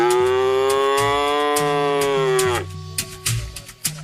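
Cattle are bled one after another for a ceremonial drink among the Hamar people, and a loud, close cow gives one long, drawn-out moo that falls away, followed by scattered knocks and rustles.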